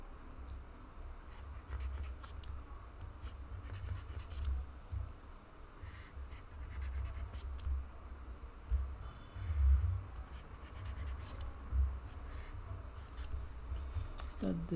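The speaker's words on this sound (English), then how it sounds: "Now let us draw another circuit" Pen or marker scratching steadily across paper while a circuit diagram of resistors is drawn by hand, a close, continuous dry scraping with irregular strokes over a low background rumble.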